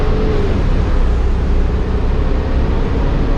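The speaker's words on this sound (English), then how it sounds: "behind Morgan you've got the engine, so it is a little louder." A large bus engine runs loudly and steadily nearby, heard from inside the bus near the rear engine, a constant low rumbling drone with no pauses.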